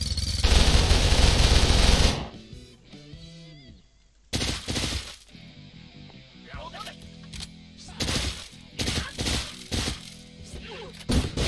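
Rifle fire in the game Deadbolt opens with a loud sustained burst, then sharp scattered shots follow amid quieter game sounds and a voice talking.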